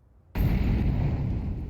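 A Molotov cocktail bursting into flame in Counter-Strike 2: silence, then a sudden loud whoosh that stays as a sustained roaring, crackling fire.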